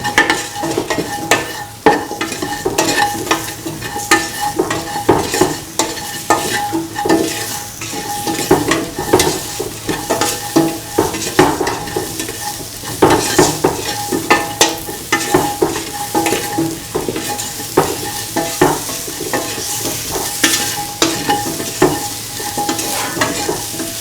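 Potato, mung bean and rice mixture sautéing in a pan, a loud sizzle broken by repeated rhythmic scraping and stirring strokes of a utensil throughout, with no voices.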